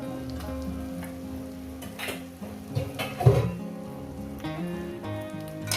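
Chicken pieces frying and being stirred with spices in a pan over medium heat, a steady close sizzle broken by scraping stirs and a few louder clatters of the spoon against the pan.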